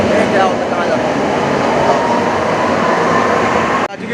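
A Kolkata metro train runs steadily, with a loud, continuous rumble and rushing roar. The noise drops sharply just before the end.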